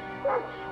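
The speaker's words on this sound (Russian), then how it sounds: "Лучше пусть он лает, чем кусается." A short cartoon dog bark or yip pops up briefly and moderately loud in a Smurfs animated episode, one quick sound over a faint background.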